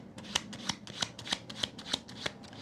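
A deck of cards is shuffled in quick, regular riffles, about eight crisp bursts of flicking and snapping in under three seconds, close and clear with no voices.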